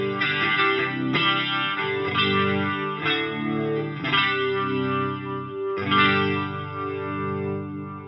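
An electric guitar runs through an Electro-Harmonix Lester G pedal in regular compression mode. Chords are strummed every second or so and take on a swirling, chorus-like warble and sustained ring, loud and close, with no talking.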